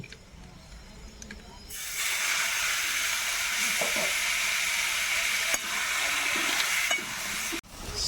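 Boiled taro stems hit hot oil with reddened crushed garlic in a pan, a sudden loud sizzle erupting after a quiet start and hissing steadily, with a couple of utensil clacks near the end.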